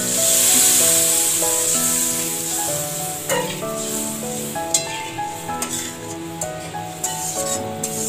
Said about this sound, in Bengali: মশলাটি ভালোভাবে কষিয়ে নেওয়া হয়ে গেছে। এরপর আমরা জল দিয়ে দিচ্ছি।